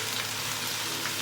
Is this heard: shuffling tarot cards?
no